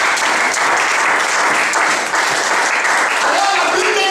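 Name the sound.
church congregation applauding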